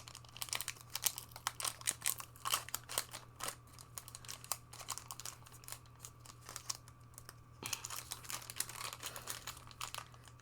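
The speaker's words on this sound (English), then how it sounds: "I am not a fan of this new packaging for the collector's boosters. They're so hard to open sometimes." Collector booster pack foil packaging being torn and crinkled open by hand, close and faint, a scattered run of crackling rips and crumples with no talking.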